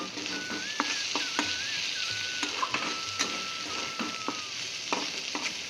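Potatoes and onions frying in a pan with a steady, loud sizzle, while a utensil scrapes and stirs in regular clicks, close up and without talk.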